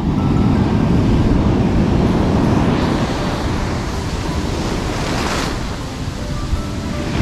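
Surf waves washing onto a beach at Sendai, Japan, a loud continuous roar of breaking water and foam with some wind noise, no talking.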